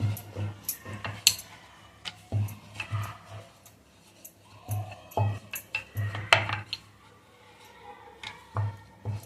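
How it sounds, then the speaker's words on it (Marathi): Momo dough rolled out with a rolling pin on a board, giving soft rhythmic thumps and clacks repeated at steady intervals, close and moderately loud, with no talking. "जास्त पातळही नाही आणि जाडही नाही, अशा पद्धतीने लाटून घ्यायचं आहे"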